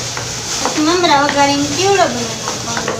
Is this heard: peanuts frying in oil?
yes